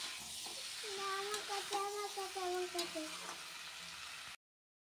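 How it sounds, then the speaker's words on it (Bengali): Prawn fritters frying in a pan make a soft, continuous sizzle and hiss. A voice talks over it in a melodic, sing-song way, and the sound cuts off abruptly near the end. "চিংড়ি মাছের বড়া হচ্ছে"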